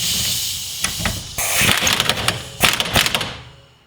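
An impact driver fires in short, sharp rattling bursts while tightening a control arm bolt with a 16 mm socket on a lowered car's camber setup, close and loud, with hissing air between bursts.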